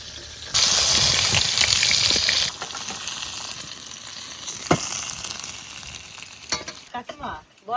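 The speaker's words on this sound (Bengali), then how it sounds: "মাছ ভাজা হয়ে গেছে, এবার তুলে নেবো।" Katla fish from the river, cut from a 3.5 kg catch, frying in hot oil: a loud, dense sizzle bursts up at first, then settles into a softer crackle with a few utensil clinks.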